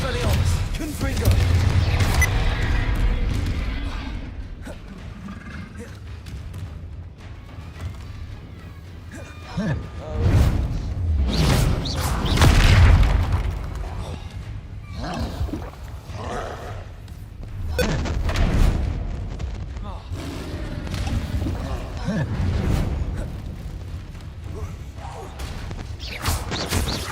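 Spell casting and magical explosions in Hogwarts Legacy during a troll fight, with repeated heavy thuds and bursts rising and falling over the whole stretch and a voice talking over the action.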